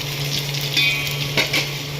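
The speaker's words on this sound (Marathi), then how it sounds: "त्यात मी टाकते पत्ता लसूण टाकली आहे ते पण चांगलं असं परतून घ्यायचं" Garlic sautés in hot oil in a pan for a tempered rice dish, giving a close, steady sizzle with small crackling pops.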